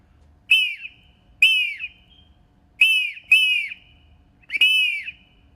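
Five sharp, piercing whistle calls from a triple clay whistle imitating an eagle sound at irregular intervals, each a bright descending screech like a raptor's cry, with silence between.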